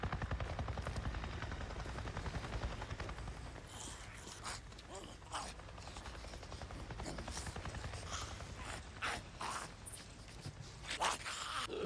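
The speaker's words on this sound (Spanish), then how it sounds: "¡He visto un puto helicóptero!" Helicopter in the post-apocalyptic video game Days Gone, a steady low rotor drone running throughout under intermittent game effects and brief clicks and bursts.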